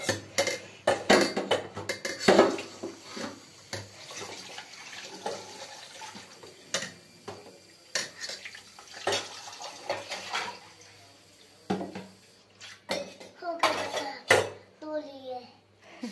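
Dishes, pots and cutlery clatter and clink in a sink under running tap water, in irregular bursts of clanks and splashes, close and fairly loud, with a child and an adult talking intermittently throughout.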